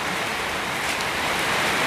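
Steady rain falls outdoors at a street-side shop setup, a dense even hiss of drops on surfaces, moderately loud and unbroken, with no voices.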